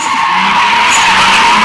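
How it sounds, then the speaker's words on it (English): Tires on a 1994 Toyota Supra squeal loudly and continuously as the car slides sideways, a sustained high screech with steady intensity across the short burst. "Go sideways, burn up some rubber."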